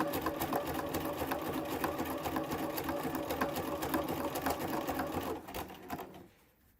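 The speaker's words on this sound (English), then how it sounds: "set a zigzag to 3 stitch length and 3 of the width of the zigzag, and go ahead and it jumps back and forth in a wide zigzag down the length" A sewing machine set to a wide zigzag stitch runs steadily along bias tape on a hooded towel, a close, loud, continuous rapid whirring that stops abruptly near the end.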